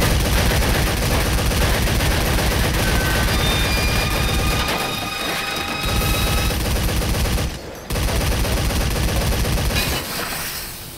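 Gunfire from weapons in the video game Metal Gear Solid V: The Phantom Pain rattles in loud, rapid automatic bursts almost continuously, with a brief gap near the end.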